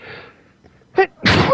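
A single sharp human sneeze bursts out near the end after a brief catch of breath, close and loud, preceded by faint murmuring.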